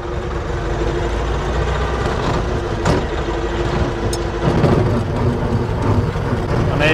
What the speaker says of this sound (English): Now I'm gonna shift it again.